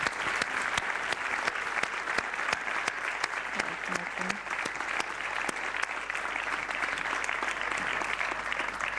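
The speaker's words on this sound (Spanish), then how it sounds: "Muy bien, un aplauso." An audience at a talk or event gives sustained applause, dense clapping throughout at moderate distance, with voices faintly mixed in.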